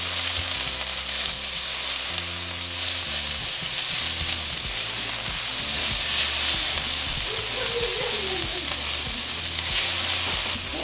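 Onions, chipotle and garlic frying in a pan for chimichanga filling, a steady loud sizzle with a constant hiss, joined by low rhythmic knocking and clatter in the background.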